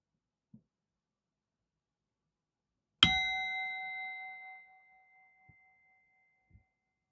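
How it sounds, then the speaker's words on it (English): A meditation bell is struck once to open a sitting, a single bright ring that decays slowly over about two seconds in otherwise quiet surroundings, with a few faint small knocks before and after. "one bell to signify the beginning, and three to signify the end"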